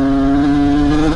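A dirt bike engine running rough and sounding crispy, a loud, close, steady buzzing drone held at constant pitch for about a second before easing slightly.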